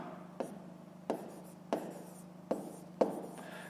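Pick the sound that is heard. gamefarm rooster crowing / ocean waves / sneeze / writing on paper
writing on paper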